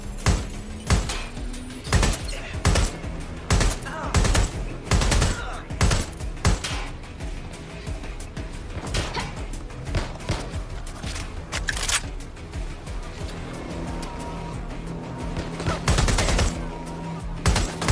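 Gunfire in the video game Watch Dogs: Legion, with sharp individual shots and short volleys cracking irregularly over a steady background drone.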